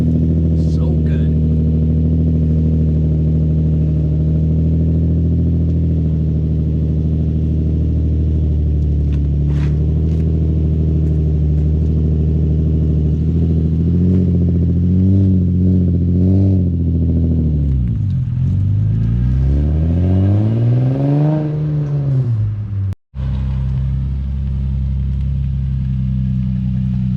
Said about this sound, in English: See what a real V8 sounds like.